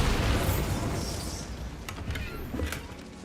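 Explosive blast from the Bombarda spell in a video game, a loud broadband boom that decays over a few seconds, with a couple of sharp pops and crackles trailing after.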